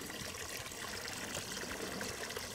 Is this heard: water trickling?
yes